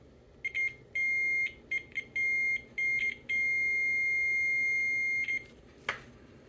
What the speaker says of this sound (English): If this multimeter is set to continuity and makes a beep at both ends, the fuse is good